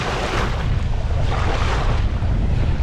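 Ocean waves breaking on a Scottish beach, a loud continuous roar of surf with heavy wind buffeting the microphone and no voices.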